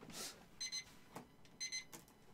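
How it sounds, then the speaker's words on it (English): Phone alarms going off as two short bursts of bright, high repeating beeps with a faint chirp between them, with no talk, during a casual live stream. "now all my alarms are going off"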